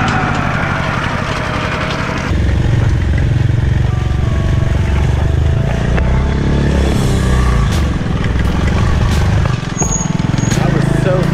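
A vehicle drives along a rural road toward Battambang province, its engine droning loud and steady at close range, with a voice talking over the engine noise.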